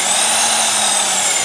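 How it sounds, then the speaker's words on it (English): Vevor magnetic drill press driving a 1-1/2 inch annular cutter into 2 inch thick steel, a steady, loud, continuous high whine and grinding hiss with no breaks, close up and without talk. "Stop talking and start drilling."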